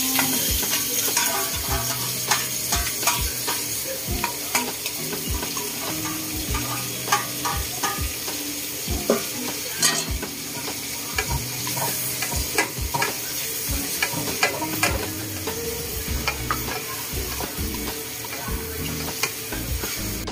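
Sisig, chopped pork, sizzles and fries in a hot pan as a utensil stirs it, with loud, steady crackling broken by frequent scraping clacks against the pan, close up and with no talk.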